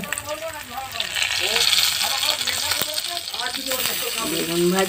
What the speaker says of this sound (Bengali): এখানে মা করছে বেগুন ভাজা